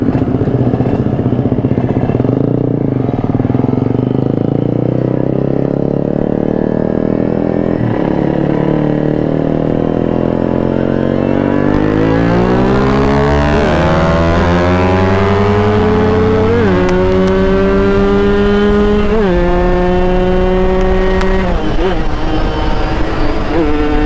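A motorcycle with a poorly behaving clutch revs loudly and steadily up close, its engine pitch climbing in repeated rises as it accelerates through the gears.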